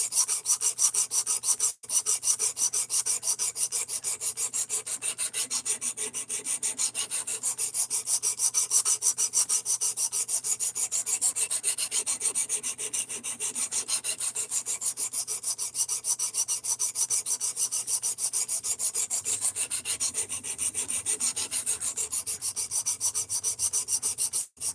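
A knife blade being sanded with grit abrasive: steady, continuous rasping strokes at a quiet level, rhythmic rubbing with no pauses.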